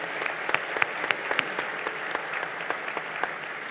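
Audience applause at a citizens' debate on state capture and democracy fills the hall, steady clapping from a moderate-sized crowd heard at a distance, with no voices over it.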